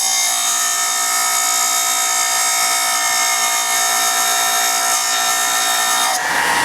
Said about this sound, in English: just grind a general flat onto this guy.